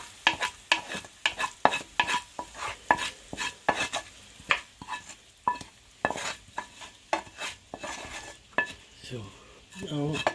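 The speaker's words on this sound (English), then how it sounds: "You are turning it here because of the oil." Nigerian fried rice being turned in oil in a pot, with a spoon scraping and knocking against the metal in quick repeated strokes over a soft sizzle, close and fairly loud, no talk.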